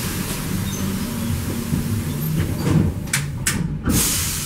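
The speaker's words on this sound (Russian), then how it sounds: "Осторожно, двери закрываются." Sliding doors on a route 24 tram close with a brief hiss and a couple of sharp thumps near the end, heard against a low, steady cabin rumble.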